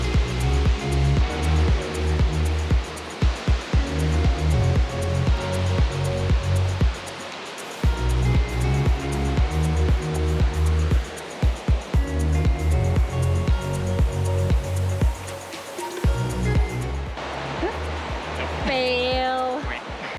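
El Chiflon waterfall in Chiapas, Mexico, a broad steady rush of falling water heard under loud rhythmic music, with a brief bird-like chirp near the end.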